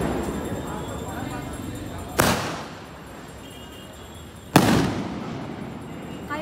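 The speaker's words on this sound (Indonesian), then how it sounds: "orang pada main kembang api tuh, main petasan" Two sharp, loud firework and firecracker bangs a couple of seconds apart in a street in India during Diwali, each leaving a brief crackling decay over a steady background din.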